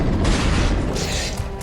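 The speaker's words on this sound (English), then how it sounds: "Firing concussive shots!" Concussive shot blasts from a Mass Effect battle hit as dense, booming bursts with a mechanical clatter, loud and close, running as a continuous barrage with no speech.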